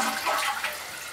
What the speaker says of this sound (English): do a test flush